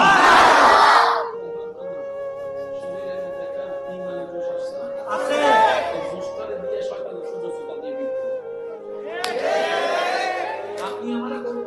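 A crowd at a Bengali Islamic sermon gathering roars a loud shout of marhaba in unison, swelling then fading, with a preacher's amplified voice speaking between the reverberant bursts.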